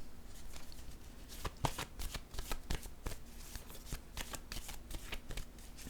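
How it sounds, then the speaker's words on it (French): Playing cards are handled, shuffled and laid down in a series of crisp, close slaps and riffles at an uneven rhythm, with no talking. "Je vais déposer une autre carte ici."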